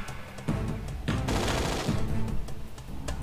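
Bursts of enemy gunfire in a dark fantasy action game, loud rapid fusillades swelling and fading over a few seconds with no speech.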